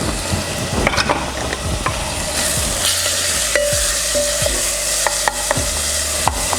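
Ginger, onion and tomatoes fry in a pan for a black-eyed bean and mushroom curry, giving a loud, steady sizzle broken by frequent sharp scrapes and taps of a stirring utensil.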